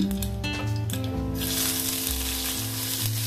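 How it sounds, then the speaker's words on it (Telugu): Mustard seeds, cumin and onions sizzling in hot oil in a pan, a continuous close frying hiss under a steady musical background. "ఆవాలు, జీలకర్ర, ఆనియన్స్ వేస్తున్నానండి"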